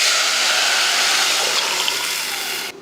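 Tamarind water poured into a pan of tempered rasam with popped mustard seeds and dried red chillies gives a loud, steady hissing splash. It runs for nearly three seconds and then stops abruptly.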